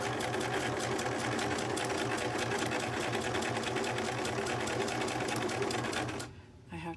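A sewing machine stitches a writer's journal in a steady, fast, rhythmic whir that stays close and continuous. It stops abruptly near the end, leaving a few soft handling sounds.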